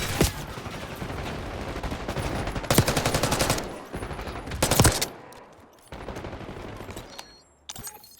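M4 rifle gunfire in the video game Black Ops 6 crackles in loud, rapid automatic bursts of varying length separated by short gaps, close and dominant.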